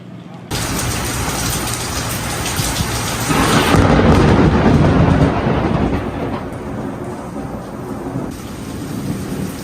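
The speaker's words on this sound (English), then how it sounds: "we can get some storms" A thunderstorm at sea hits suddenly with heavy rain hiss and a broad rolling rumble of thunder that swells midway and then eases, loud and close, with no talking.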